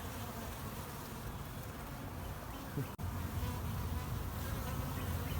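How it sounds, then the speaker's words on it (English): Honeybees buzzing in a steady, dense hum, a continuous droning swarm close by that does not let up. "individual honeybees, and they all work together to gather pollen and nectar, which is their food source."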